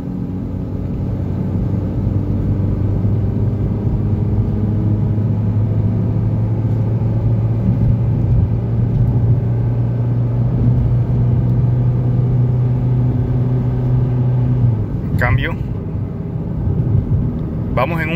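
A 2013 Kia Rio with a replaced engine pulling uphill in low gear at low revs, a steady loud droning engine hum that holds for a long stretch and then shifts, with someone talking over it.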